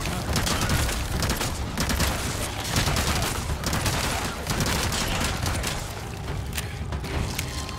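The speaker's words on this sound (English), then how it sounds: "I'm shooting around this corner." Resident Evil 4 gunshots ring out in rapid succession amid loud, dense clatter and booming action, continuous and close throughout.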